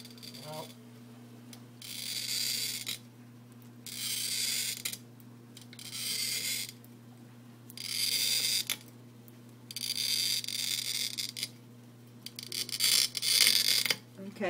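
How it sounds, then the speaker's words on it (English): A handheld bottle cutter scores a glass wine bottle with repeated scratchy, gritty bursts of a couple of seconds each, separated by short pauses, under a steady low hum. "we have this handy-dandy cutter right here. Yep. All you do is make a score, right?"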